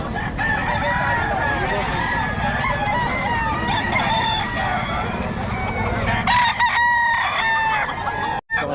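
Sweater breed gamefowl rooster crowing loudly and close, repeated crows over clucking hens at a poultry sale, with voices faintly in the background.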